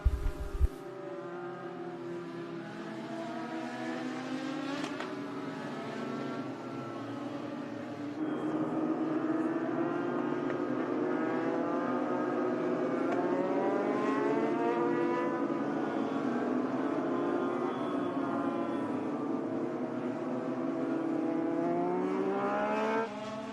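Race cars circling the track at Thursday Night Thunder, engines rising and falling in overlapping revving sweeps as they lap, a steady mid-distance roar with no talk.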